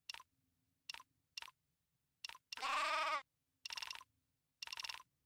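Sheep in the video game Craft the World bleat in a series of short, bright calls, one longer drawn-out bleat in the middle, each separated by silence and heard alone without talk.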